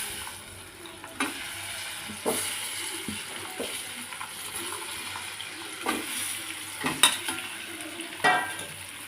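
Boiled eggs frying in a pan for egg biryani, a constant sizzle broken by intermittent scrapes and clanks of stirring, close and moderately loud.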